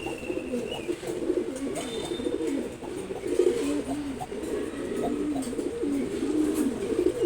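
Pigeons, including silver khaki and red birds, coo in a low continuous murmur close by, overlapping throughout, with faint chirps in the background.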